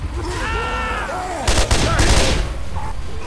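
Gunfire bursts in Left 4 Dead 2, a cluster of loud rapid shots midway through amid game ambience, with voices talking and shouting around it.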